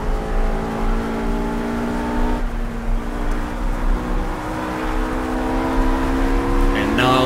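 RUF RGT 8 race car in Project CARS on a hot lap of the Eifelwald track, engine wailing loud and close as it revs climbing through the gears, with a sharp drop at each upshift before the pitch rises again.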